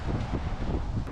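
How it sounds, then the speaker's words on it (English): Gusty wind buffets an outdoor microphone on a city street in China, a steady low rumble with rolling surges. "Oh my goodness, it's windy."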